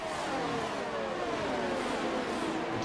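Racing car engine in an F1 video game at Bahrain, a loud continuous high-pitched whine climbing steadily in pitch as the car accelerates, filling the clip alone without talk.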